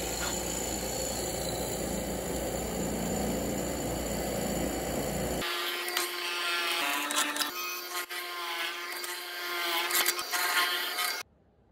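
Cutting a 2-inch mortise in a wooden rail for a storage cabinet: a steady machine whine with tonal hum runs alone and fairly loud, with brief dips in pitch as the cut loads, stopping abruptly near the end.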